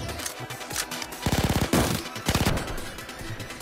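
Gunfire in the Blue Archive video game: bursts of rapid automatic fire with several single shots between them, loud and close, and no one speaking.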